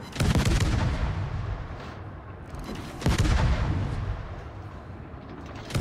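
Heavy warship naval guns fire armor-piercing shells in a World of Warships naval battle on an Akizuki destroyer, two loud booming salvos about three seconds apart, each rolling away into a long rumbling tail, with no talking.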